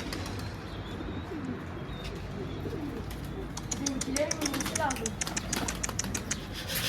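Pet pigeons cooing outdoors, with soft, repeated low coos and scattered small chirps over a constant background bustle, while faint voices murmur nearby.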